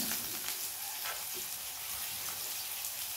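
Vegetables frying in oil in a wok give a loud, dense, continuous sizzling hiss close by, with a few faint clinks and stirring sounds inside it and no voices.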